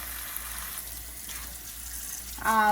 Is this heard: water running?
yes